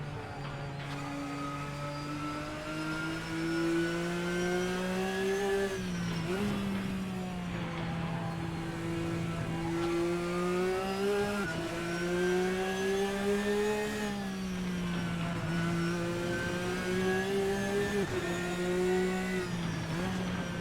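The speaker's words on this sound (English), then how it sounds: "I always love these flat six engines" A high-revving flat-six racing engine in the video game Assetto Corsa drones steadily, its pitch dipping and climbing with each gear change over a continuous, loud run.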